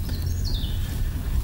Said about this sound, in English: Probably hear the birds tweeting in the distance